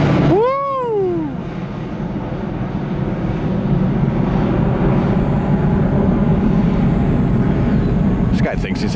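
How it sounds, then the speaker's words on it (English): A jet airplane taking off at Orlando airport gives a sustained broad roar at a distance, with a passing whine sweeping down at the start, while people talk over it. "Did you see that takeoff?"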